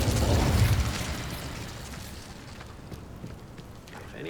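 Incendio fire spell cast in Hogwarts Legacy, a loud whooshing burst of flame that swells at the start and then fades into softer crackling and small pops.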